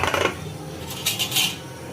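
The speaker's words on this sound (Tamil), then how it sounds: "ப்ரெஷர் அடங்கிடுச்சு, ஓப்பன் பண்ணிடலாம்." Metallic clatter of a pressure cooker lid being opened after the pressure has dropped, a short scrape and a couple of clanks close by, with no talking.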